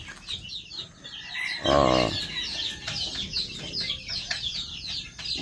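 Chickens suffering from coryza cluck and chirp steadily after being fed feed mixed with Doxilac, with one louder, drawn-out call near the middle over the continuous flock chatter.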